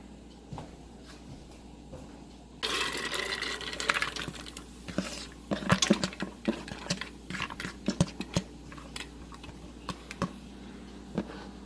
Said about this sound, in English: So now I'm going to dump my seeds in there.